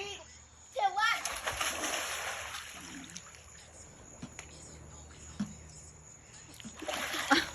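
A person swims and splashes in a lake at night, with a few soft splashes that are not loud. Children's voices and talk run over them, and faint crickets chirp in the background.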